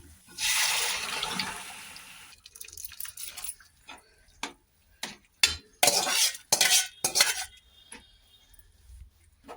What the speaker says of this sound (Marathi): सगळं असं मस्त मिक्स करूया मसाल्यात